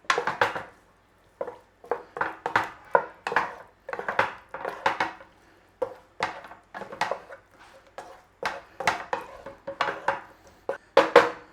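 Cooked chicken tikka is stirred through gravy in a pan off the heat. A utensil scrapes and clacks against the pan in short irregular bursts, close and fairly quiet, with brief pauses between strokes.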